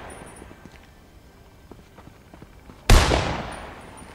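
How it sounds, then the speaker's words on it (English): A single sharp, loud gunshot in the video game Fortnite cracks out near the end after a few seconds of quiet game ambience with faint clicks, its report decaying briefly. "Wait, he's still firing."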